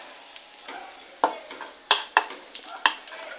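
Raisins frying in a pan for vermicelli payasam, a soft sizzle broken by irregular scraping clicks of a spoon stirring them, close and fairly quiet.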